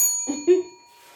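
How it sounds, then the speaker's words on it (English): A short bell ding rings out once, bright and clear, after a faint earlier tone, then fades into quiet. "hit the notification bell"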